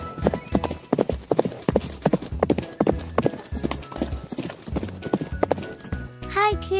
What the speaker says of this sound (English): Listen to my neigh.